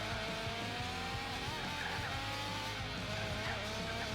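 Race cars, including an Alfa Romeo, in the video game Gran Turismo 4: a steady, high engine whine with tire squeal running throughout, no talking.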